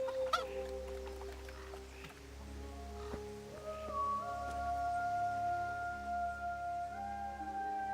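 Hens cluck and honk faintly on a farm in Kingdom Come: Deliverance, set against steady game ambience and sustained musical tones, with no talking.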